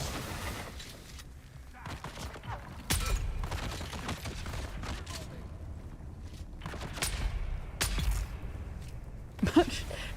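Close-range rifle fire in Dune Awakening: a handful of sharp, scattered shots spaced several seconds apart over a low, muffled game background.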